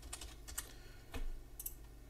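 A few scattered keystrokes on a computer keyboard as a password is typed, soft and close, in small irregular clusters with a brief louder thump midway, and no speech.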